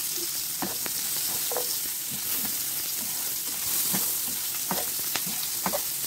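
Carrots stir-frying in a pan for crispy pork belly with sweet and sour chilli sauce, a steady bright sizzle broken by repeated scraping and clinking stir strokes, close and alone.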